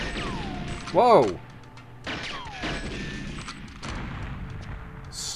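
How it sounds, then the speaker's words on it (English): A blast in the video game GoldenEye 007, on the custom level Caucasus: one loud, sharp burst with a sweeping tone about a second in, then fading into quieter game sounds. "Slightly larger explosion than I had anticipated."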